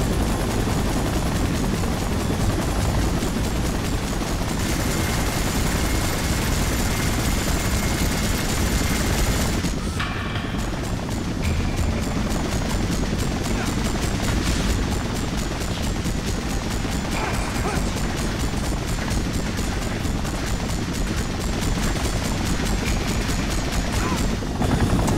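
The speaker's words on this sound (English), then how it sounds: "Gotta stop the chopper from hitting the street." A helicopter in the Spider-Man 3 game on PS3 keeps up a loud, dense rotor roar for the whole stretch, with a brief dip and shift partway through and scattered game effects and a voice layered on top.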